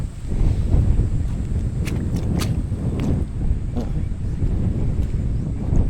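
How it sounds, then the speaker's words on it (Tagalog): Strong wind roars and buffets steadily at close range around a parked car at a lakeside campsite, a low rushing rumble with a few faint knocks and clicks. "Ito lang kami sa sasakyan na sobrang lakas ng hangin ano."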